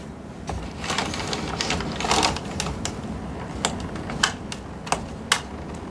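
A 90s home knitting machine carriage runs across the needle bed knitting yarn, giving rapid clattering and ticking with sharper clacks near the end of each pass, close and mechanical.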